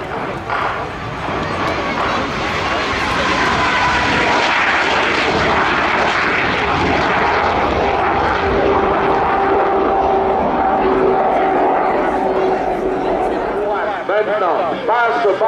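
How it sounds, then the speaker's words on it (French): A MiG-17 jet fighter roars past at an airshow, a loud continuous jet rush that swells and holds before fading slightly, with an announcer's voice over the PA. "Bill Cumberland, aux commandes de son MiG-17."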